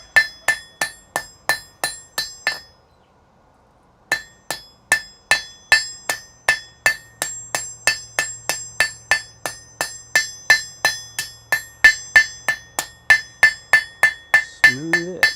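A hammer strikes hot metal on an anvil in a smithy in a steady ringing rhythm, loud and close, with a brief pause early on and a turkey's gobbling faintly mixed in toward the end.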